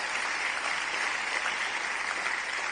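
Steady, moderately distant audience applause for the Ben Fernandez Trio at the 2026 Ockham New Zealand Book Awards ceremony, an even wash of many hands clapping with no voices.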